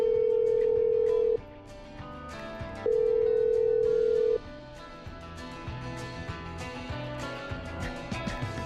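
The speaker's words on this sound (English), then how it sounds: "I'm dialing. One moment." Phone call in the video game Killer Frequency: a steady, loud tone sounds twice in long bursts separated by a short gap, over quiet background music, with no one speaking.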